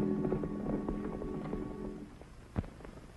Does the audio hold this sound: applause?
no